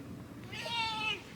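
A clingy house cat gives a single drawn-out meow, fairly close and moderately loud, over a quiet indoor background.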